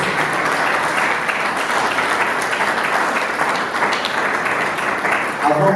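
An audience at a Kinshasa sound and music festival bursts into applause, a loud, dense and continuous wash of clapping that holds steady throughout.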